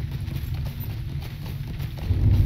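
Horse hooves clop in a quick, steady rhythm while riding in a Lord of the Rings video game, close and continuous, growing a little louder at the end, with no voices.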